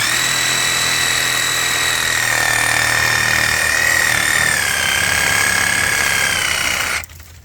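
A reciprocating saw cutting through an apple tree branch, loud and close, buzzing with a steady rattling hum that shifts pitch slightly before stopping abruptly.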